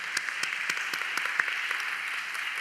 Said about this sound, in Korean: 안내팀에게 격려와 사랑의 박수 하겠습니다